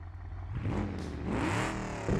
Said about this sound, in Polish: możemy mu w ogóle wyciągnąć wydech, to będzie bardzo głośne, posłuchajcie.